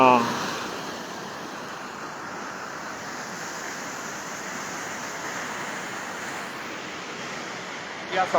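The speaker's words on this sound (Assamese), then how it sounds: "ইয়াৰ পানীৰ শব্দ শুনা পাইছেনে? কি ভয়ংকৰ শব্দ পানীৰ!" Loud, steady roar of a rushing mountain river near Kedarnath Temple, a dense continuous wash of water noise heard close by that holds for several seconds.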